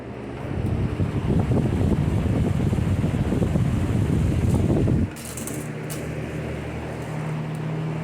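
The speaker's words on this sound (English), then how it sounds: "Oh, I forgot to turn on my fan." A workbench fan runs during soldering on an Amiga 2000 socket repair. A loud, steady rushing roar drops at about five seconds to a quieter, even hum.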